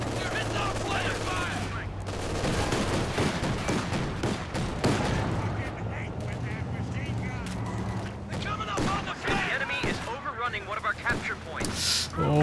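Sustained machine gun fire in a Company of Heroes 2 match rattles on for many seconds among other bursts of gunfire and explosions, with a commentator talking almost continuously over the battle.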